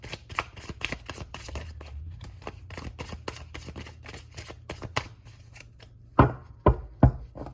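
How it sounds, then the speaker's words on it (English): Tarot cards being shuffled by hand, a quick series of crisp riffling snaps and taps, close and clear, ending with a few louder slaps as the deck is squared. "Last shuffle."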